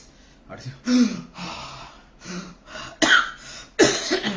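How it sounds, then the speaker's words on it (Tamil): Several harsh coughs burst out one after another, close and loud, mixed in with a person talking. "இது இருமல் வந்துருச்சு"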